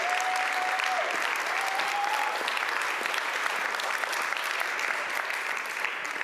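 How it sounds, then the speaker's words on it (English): Audience at a festival award ceremony applauding, a dense, steady burst of clapping from a crowd for several seconds, with faint voices underneath. "A last clapping hand."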